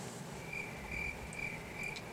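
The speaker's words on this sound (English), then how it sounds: "Crickets." Crickets chirping as a sound effect: a faint, continuous chorus of evenly pulsed high trills repeating about twice a second, with no other sound.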